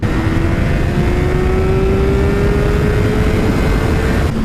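A 2017 Suzuki GSX-R1000 engine revs loudly and continuously during a ride, its steady high drone climbing slightly in pitch, close and dominant with no voices.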